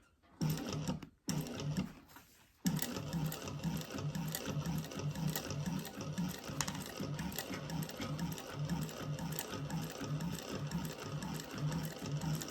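A sewing machine top stitches a crossbody bag at an eighth-inch seam, with a few short bursts and pauses followed by a long, steady run of fast, rhythmic needle clatter, close and clear.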